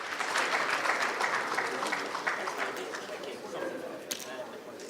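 An audience at an insurance-finance conference panel applauds steadily throughout, a dense crowd of clapping hands that stays fairly even and slightly distant in a large hall.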